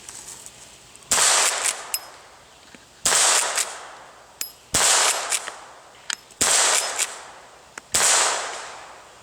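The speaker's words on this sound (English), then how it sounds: "Let's put some rounds through him." Taurus Thunderbolt rifle firing rounds at a target outdoors, five loud sharp shots spaced about two seconds apart, each with a short ringing decay and faint distant echo.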